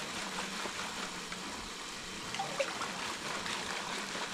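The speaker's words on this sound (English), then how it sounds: "and I rinse it." Water rinsing gravel in a gold pan: a steady trickling, sloshing wash that holds at an even level throughout, with a small splash near the middle and no talk.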